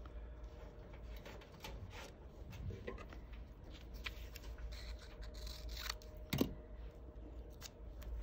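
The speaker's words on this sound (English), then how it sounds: "I'm just gonna cut out for seam allowance down here at the bottom too" Scissors snip through a paper sewing pattern, trimming the seam allowance for a kimono sleeve with a gusset, in a quiet room. The cuts come as a steady run of small close crisp snips, with one sharper crunch near the end.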